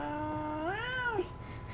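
A pet cat gives a single drawn-out rising and falling meow, close and clear over a low background hum.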